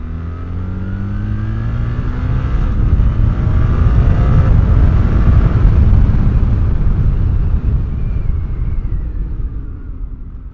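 A BMW R1300GS motorcycle with 165 hp accelerates hard, its engine note rising steadily through the revs, loud and close, then easing off as it pulls away.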